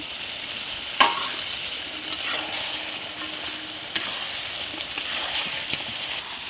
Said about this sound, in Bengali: চিকেনটা দিয়ে আরও আমি ভালো করে কষে নেব